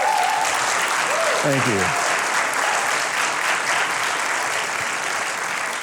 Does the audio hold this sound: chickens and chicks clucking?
no